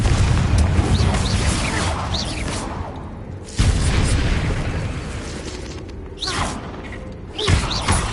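Incendio and Confringo spells explode in the game Hogwarts Legacy, several booming blasts with heavy rumbling bursts, the loudest hits at the start and midway, followed by crackling fiery tails.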